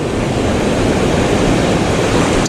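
Ocean surf washes and breaks over rocks at the shoreline in a loud, continuous rushing roar of water, with wind blowing across the scene.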